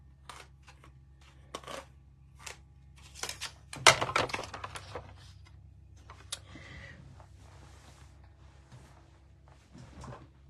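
Cardstock in olive is cut from a strip, giving a series of quiet, sharp snips and clicks spaced irregularly, with one louder crunchy cut in the middle and no talking.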